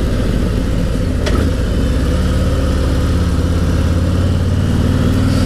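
Harley-Davidson Street Glide Special 114, a 2019 touring motorcycle of about 840 pounds, riding at low RPM: a loud, steady, close engine rumble with a continuous low throb and no speech.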